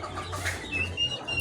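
Australorp chicks in a poultry hatchery brooder chirp with a few thin, high peeps over a steady low hum, close and fairly faint throughout.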